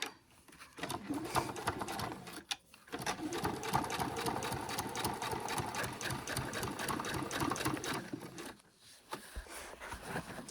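A sewing machine stitches backpack straps in close, rapid bursts of mechanical clatter, running steadily for several seconds with a short pause early on and another near the end.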